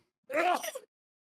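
A sneeze, a single short burst lasting about half a second with a sharp onset and a voiced, breathy tail, heard close and alone against silence.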